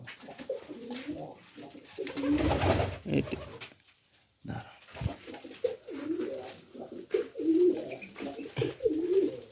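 Pet pigeons, a breeding pair with eggs, coo close by in repeated soft, throaty phrases that pause briefly midway and then resume in a rolling rhythm.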